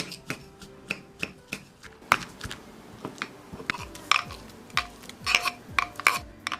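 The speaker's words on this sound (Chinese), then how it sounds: "准备一些大蒜，加一点盐，捣成蒜泥。" Garlic and salt being pounded into a paste, heard as a close, regular run of sharp knocks roughly twice a second, each one crisp and short, with no one talking.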